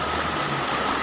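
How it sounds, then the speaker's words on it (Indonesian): A strong current of the flooded, overflowing Katingan River at Kereng Pangi in Central Kalimantan rushes past as a steady, broad wash of water, fairly loud and unbroken, with no voices. "Saya jalannya juga harus pelan-pelan karena arusnya begitu kencang."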